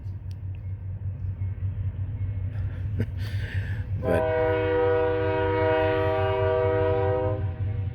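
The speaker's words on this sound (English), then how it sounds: "Slow train coming." A slow train rumbles steadily nearby, then its horn blasts loudly and holds for several seconds over the low rolling rumble; a brief word is spoken early on.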